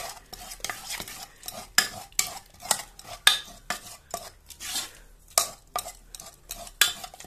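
Stinging nettle saag being stirred and mashed in a cooking pot, a steady rhythm of scraping, scooping strokes with soft metallic knocks, close and moderately loud, no talk.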